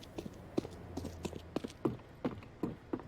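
Player footsteps in a Counter-Strike match tap out in a steady, quick rhythm of about a dozen soft, distinct thuds, faint and fairly close.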